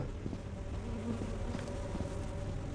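Bees buzzing around a hive in the horror game Lethal Company, a steady, droning insect hum that stays close and even throughout, with no talking.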